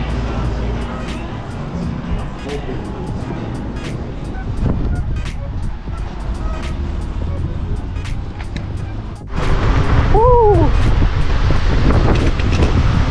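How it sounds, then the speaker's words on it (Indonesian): Strong wind buffeting the microphone outdoors in Canada, a loud continuous roaring rumble that grows stronger toward the end, with a brief whistling tone mixed in. "Jir, anginnya kenceng banget."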